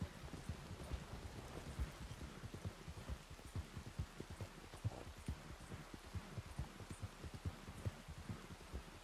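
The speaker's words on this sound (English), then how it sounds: "Why is it raining all of a sudden?" Rain falling in the video game Red Dead Redemption 2, a steady patter of drops with dull thuds and clip-clop-like knocks heard alone at moderate volume.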